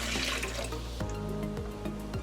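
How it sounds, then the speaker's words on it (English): Hot water mixed with instant espresso is poured into sugar for chocolate cupcakes, a steady close splashing pour with faint clinks and liquid sounds, no voices. "I'm going to pour that in with the sugar"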